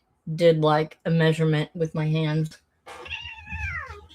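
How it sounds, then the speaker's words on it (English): A person talks briefly, then a cat gives a single drawn-out meow nearby. "Oh, I heard that. That was a cat."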